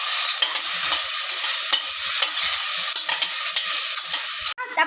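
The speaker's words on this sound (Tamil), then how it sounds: "தக்காளி சேர்த்துட்டு நம்ம இதை இன்னும் நல்லா வதக்கிக்கலாம்." Chopped tomatoes sizzle and hiss steadily in a hot pan for a vegetable biryani, a loud continuous frying crackle with occasional stirring scrapes.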